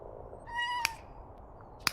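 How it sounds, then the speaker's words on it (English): A cat meows close by, one clear drawn-out meow with a couple of sharp clicks, heard alone over faint room noise while a player takes a break from Powerwash Simulator. "like this cute kitty who's in my face"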